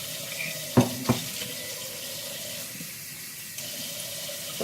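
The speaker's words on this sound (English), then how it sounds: "Just filled it up with warm water" Warm tap water runs steadily into a bowl for a bread dough mixture, a continuous close hiss with two sharp knocks near the start and a faint clink later.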